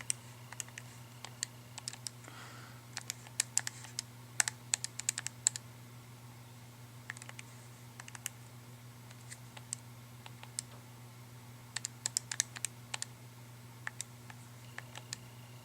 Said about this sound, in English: that's going to be calculator work now. So I'm going to type all this in.